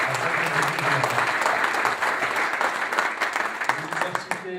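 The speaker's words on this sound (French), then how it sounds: "je vous demande d'applaudir" A crowd gives dense, sustained applause that stays close and loud throughout, with a voice briefly audible beneath it near the start and end.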